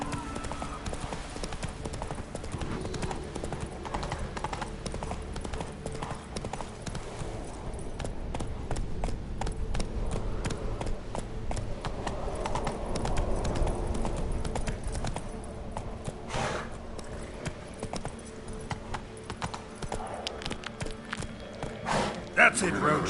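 Roach the horse gallops in The Witcher 3, steady clip-clop hoofbeats rolling on for the whole stretch, mid-distance and moderately loud, with game sounds and a voice talking over them now and then.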